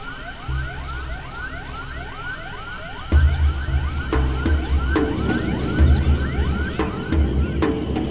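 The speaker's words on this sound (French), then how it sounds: "un simple tracteur et une sirène bruyante suffiront" A loud siren mounted with a tractor to drive cranes off farm fields near the Agamon reserve in Israel wails in repeated rising sweeps, while a deep engine rumble surges in beneath it.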